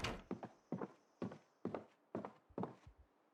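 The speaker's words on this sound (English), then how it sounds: "My footsteps are so loud." Footsteps in the video game Project Zomboid thud loudly and closely in an even walking rhythm, six paired heavy steps across the stretch with no talk.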